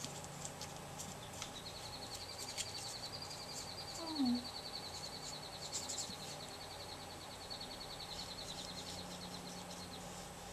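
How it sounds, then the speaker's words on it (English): A songbird sings a long, thin, high warbling phrase over steady outdoor background noise, fairly faint and distant. "You hear that pretty bird?"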